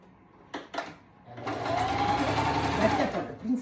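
A sewing machine runs in a steady burst while stitching a skirt, after a couple of short clicks, with a voice talking around it.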